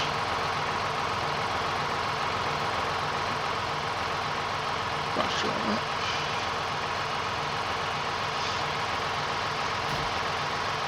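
John Deere-style 8210 tractor engine idling on a farm in a farming simulator game, a steady, even drone throughout with a brief clunk midway and someone talking quietly over it.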